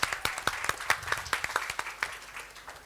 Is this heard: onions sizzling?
no